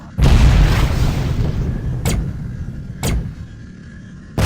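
Mines blowing up in the space combat game Tachyon: The Fringe, a long heavy rumbling boom followed by two sharper bursts and another blast starting at the end, loud and close.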